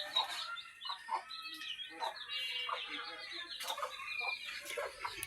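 Chickens and a mischievous native country rooster cluck and call continuously around a backyard coop, with overlapping bird chatter close by and no talking.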